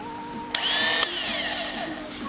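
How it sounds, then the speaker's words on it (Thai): A power drill whirs up with a sharp click, spinning at a high steady whine while drilling into a die-cast metal toy car body, then winds down slightly while still running; nearby and fairly loud. "อันดับแรกก็ เจาะสว่านก่อนเลยครับ"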